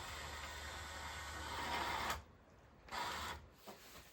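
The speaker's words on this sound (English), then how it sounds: "So now we run the indexer this direction." A small indexer mechanism on a pinball-style machine runs with a steady whirring buzz for about two seconds, then stops, followed by two shorter bursts of motor noise, close and alone.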